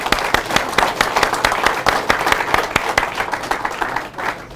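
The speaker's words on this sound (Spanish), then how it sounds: "un aplauso para ustedes mismos" An audience at a grain markets conference in Córdoba claps loudly and briskly, dense crisp individual claps forming continuous applause that tapers slightly near the end.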